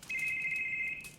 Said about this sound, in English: Do not pick up that phone.